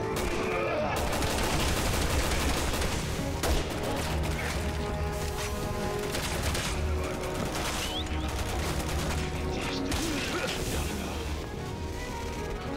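Gunfire from the Resident Evil 6 demo video game comes in dense, continuous bursts of rapid shots and blasts, loud and close, with occasional crashes layered over the shooting.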